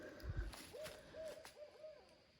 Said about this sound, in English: ooh, I just heard an owl